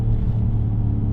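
Mercedes GLS63 AMG SUV engine giving a steady, deep rumbling drone, close and continuous, with no distinct crackle.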